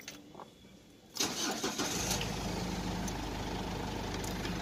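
The engine of a Ford Endeavour with an automatic gearbox cranks briefly, catches with a sudden loud roar, then settles into a steady, close idle.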